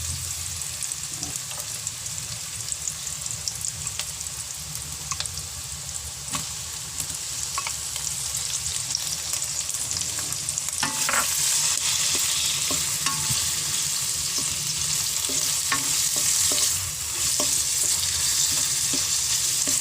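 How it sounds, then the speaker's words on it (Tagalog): Pork sizzles and fries with translucent onion in a pan while being stirred for Batangas lomi, a steady dense hiss running throughout with intermittent scraping stirs, close and loud, no voices. "pag naging translucent na yung ating onion, pwede na nating ilagay yung ating pork"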